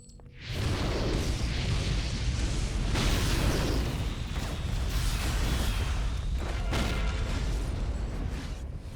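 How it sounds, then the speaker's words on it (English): Grenades go off in the superhero online game City of Heroes, a loud, heavy rumble of blasts and booms that fills the whole stretch after a brief quiet start, with whooshing bursts layered on top. "These grenades are coming in handy, I'll tell you that."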